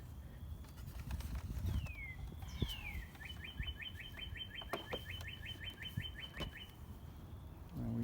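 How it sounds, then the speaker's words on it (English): Birds sing outdoors overhead: a run of quick, evenly repeated chirps and a few rising tweets, moderately loud over steady outdoor background noise, with no talking. "we got some birds singing right above us"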